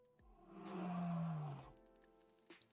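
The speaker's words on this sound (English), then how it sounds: "Let me look at the roar again." A dinosaur's roar call from the video game Dinosaur Simulator: one loud, sustained, throaty roar swelling and fading over about a second and a half, with a faint click afterward and no talking.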